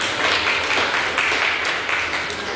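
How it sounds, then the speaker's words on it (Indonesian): Students in an Indonesian classroom clap together in a short, dense burst of applause, close and fairly loud, lasting a couple of seconds. "Terima kasih tepuk tangan."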